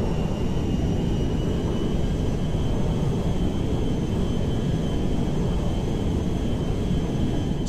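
Inside the Merryweather jet in the GTA V video game, loud steady jet engine roar fills the cabin as a continuous broadband rumble with a faint high whine, unbroken for the whole stretch.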